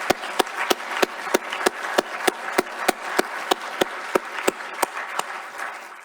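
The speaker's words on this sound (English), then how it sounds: "if we can give all of them a round of applause." Audience at a university session on migration updates gives a round of applause, heard as a steady wash of clapping punctuated by sharp, evenly spaced loud claps throughout, with no voices over it.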